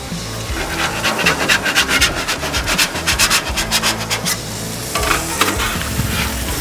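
A half-pound smash burger sizzles on a Loco Cookers griddle while a spatula scrapes and rubs rhythmically across the hot steel surface, loud and close, with no talking.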